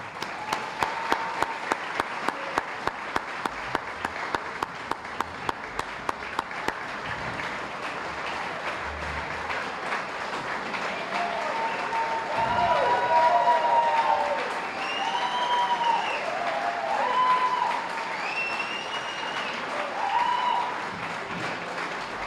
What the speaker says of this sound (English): give a big round of applause as our inductees enter the hall